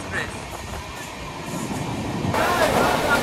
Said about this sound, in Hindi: तो भाई पहला रेस चल रही है हावड़ा श्री सत्य साई एक्सप्रेस के साथ।